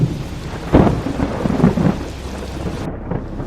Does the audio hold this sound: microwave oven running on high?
no